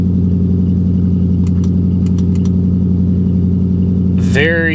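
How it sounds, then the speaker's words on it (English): A car engine idles high at about 1250 RPM, a loud steady drone close by with a few faint ticks, ending in a brief rising squeal. "The idles are a little high. The RPMs are about 1250, so that's a little on the high side."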